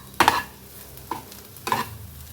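A spoon scrapes through a spiced stuffing mixture for capsicum in three distinct, close strokes, the first one the loudest, with quiet pauses between them.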